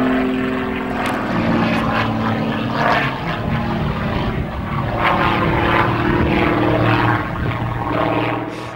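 Edge aerobatic propeller plane with a foam, carbon fibre and titanium propeller flying a high-intensity display, a loud steady engine drone with shifting pitch sustained throughout, close and continuous with no talk.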